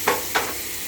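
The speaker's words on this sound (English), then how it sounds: "And see the bacon on thick. You want the bacon to get real crispy." Thick bacon crisping in a pan, with two quick scrapes of a food turner over a soft, steady sizzle.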